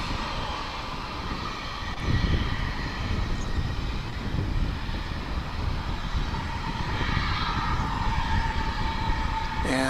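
A UPS Boeing 767 cargo jet arrives at Dallas/Fort Worth airport, its engines a broad, steady roar heard from a distance without pause.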